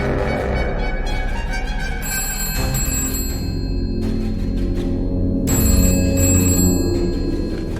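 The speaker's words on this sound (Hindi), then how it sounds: "तो फिर फोन उठा और उसे बोल कि तू उसे माल नहीं दे सकता।" A telephone rings loudly with repeated bursts of its bell, steady and close, with no one speaking over it.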